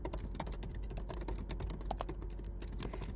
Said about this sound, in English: I'm going to add a variable called personalization sentence.